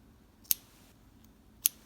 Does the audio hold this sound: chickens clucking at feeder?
no